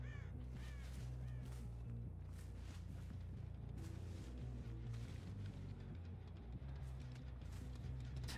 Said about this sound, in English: that squelchy noise that comes from the crows